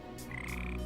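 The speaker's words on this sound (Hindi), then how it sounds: "ये मेंढक से बहुत डरती है।" A frog gives a single brief, buzzy croak, close and steady, in a Hindi-dubbed Power Rangers Super Samurai episode.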